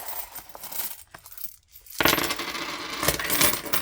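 Loose coins handled and dropped, clinking and jingling metallic taps in bursts, a brief quiet gap, then a dense rattling cascade of coins spilling close by.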